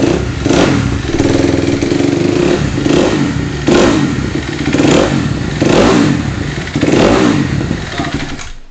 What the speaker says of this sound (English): while revving a dirt bike